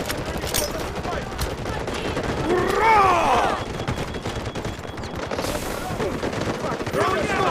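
Sustained gunfire in a 24v24 Delta Force warfare match on the Cracked map, dense bursts of automatic fire and battle noise layered continuously under game voice callouts.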